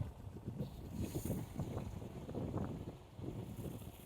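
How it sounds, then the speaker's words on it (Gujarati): Strong wind buffets the microphone in loud, rumbling gusts that rise and fall over a few seconds, with no voices, in a pomegranate orchard. "પવન વધારે છે."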